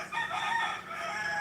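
A rooster gives one drawn-out cock-a-doodle-doo that rises and then trails off, heard at moderate distance, clear and tonal against quiet surroundings.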